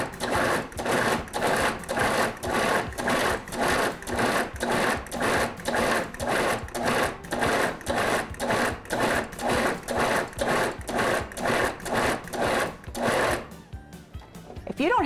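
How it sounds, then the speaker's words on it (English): A food processor pulses repeatedly while grinding cubed London broil beef, roughly two dozen short, even bursts in a steady rhythm, loud and close, ending abruptly. "I've cubed 3 pounds of London broil and put it in my food processor. And I'm going to use about 30 pulses to grind this"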